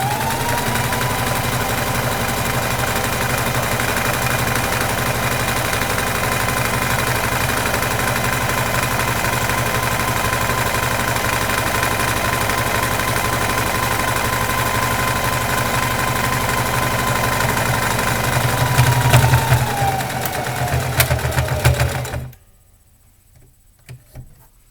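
A sewing machine stitching along a pant leg runs in a steady, continuous mechanical whir for about twenty seconds, slows with a brief rattle, then stops abruptly into near silence.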